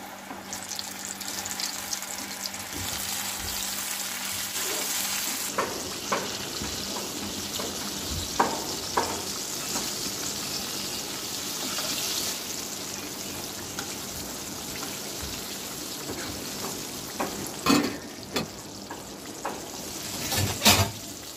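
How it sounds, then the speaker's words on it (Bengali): Chicken pieces frying in hot soybean oil in a pan, heard as a steady broad sizzle and bubbling close up with scattered crackles and a few sharper clicks, and nobody speaking. "চুলায় আমি সয়াবিন তেল গরম করে নিয়েছি, এবারে আমি চিকেন ফ্রাইগুলো একটা একটা করে দিয়ে দেব চিকেনগুলোকে"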